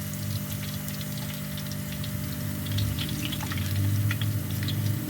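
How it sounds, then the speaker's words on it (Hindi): Pakoras sizzling in hot ghee, a steady close bubbling fry with crackling pops that swells louder partway through, no voices over it. "जितने पकौड़े आ सके उतने घी में डाल दें।"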